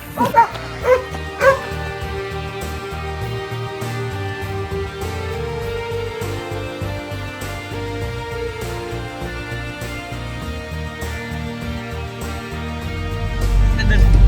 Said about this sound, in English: And there's the Kelpie there.